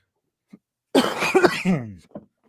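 A single harsh, close cough burst from a man with a COVID-like cough, followed by a short throaty trailing sound, set in otherwise quiet surroundings.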